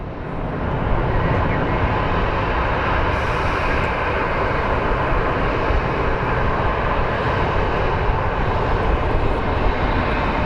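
An Airbus A220 airliner at Phoenix Sky Harbor airport produces a loud, steady jet roar that holds almost unchanged for the whole stretch, close and without any talk over it.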